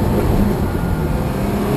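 A Ferrari 360 Spider's engine drones loud and steady from inside the car in a short, dense burst of rumbling noise, with no clear rise in pitch.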